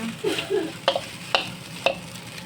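Eggplant sizzles quietly in a pan while a utensil clicks against it a few times, close by.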